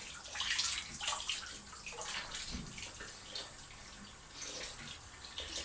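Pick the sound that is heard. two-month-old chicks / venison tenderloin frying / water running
water running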